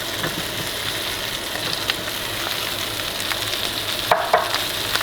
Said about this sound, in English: And give it a good stir to incorporate all the flavors.